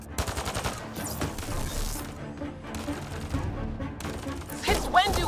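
Gunfire rattles in the space shooter game Mass Effect Andromeda, heavy bursts of rapid shots that break off and resume several times, loud and close, with the last volley near the end the sharpest.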